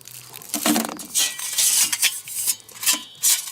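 Metal camping cookware and utensils from a backpacking wood-stove cook set clink and rattle inside a bag, a close, irregular jangle of small knocks and scrapes with no voices.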